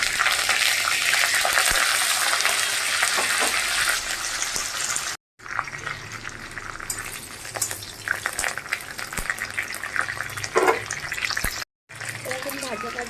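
Mustard seeds and curry leaves fry in hot oil in a home kitchen pan, a loud steady sizzle with crackles that cuts out twice, with some clattering and a voice talking at points.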